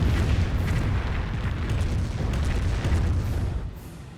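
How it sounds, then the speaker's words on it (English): A landmine detonates in a Company of Heroes 1 battle, heard as a continuous low rumbling boom with battlefield noise that holds steady and then fades slightly near the end. "Landmine detonated there."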